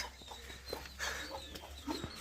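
A few short, quiet clucks from chickens come in scattered bursts over a low background hum.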